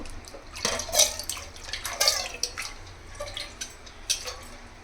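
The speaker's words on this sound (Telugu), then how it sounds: "ఈ వాటర్ అనేది రిమూవ్ చేసేస్తాము." Water splashes and trickles in uneven bursts as it drains off rice for cashew biryani, with a few louder gushes and small drips in between, close by.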